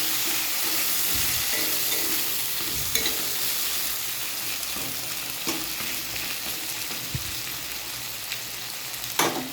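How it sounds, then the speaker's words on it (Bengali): Potatoes fry in a pan with a constant dense sizzle and hiss, broken now and then by a few soft stirring scrapes. "আমি আলুগুলিকে ফ্রাই করব"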